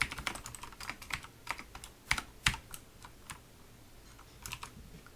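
Irregular clicks of typing on a computer keyboard, close and fairly quiet, with scattered keystrokes and short pauses, no voices.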